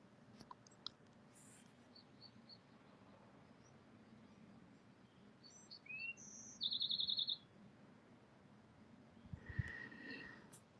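Bird chirping sound effect played over a livestream: a few quick, bright tweets and a short trilling burst, fairly faint against a steady background hiss.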